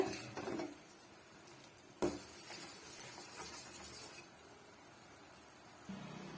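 A sweet mixture with added food colour is stirred in a pan: soft, sparse scrapes and clinks of a utensil against the metal, quiet and close, with long gaps of near silence between strokes.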